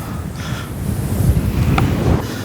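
Strong wind blasts across a jetty at Nagadevanthurai, roaring loudly and buffeting the microphone in gusty low rushes, with faint water sounds beneath.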